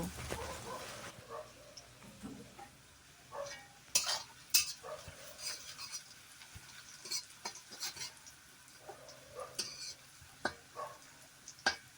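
Rohu fish and potatoes fry in a pan, with a steady low sizzle under repeated sharp scrapes and clatters of a spatula stirring against the metal.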